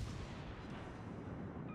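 Ship artillery fire in World of Warships Legends rumbles as a dense, low, sustained boom that fills the whole short clip at a fairly even level.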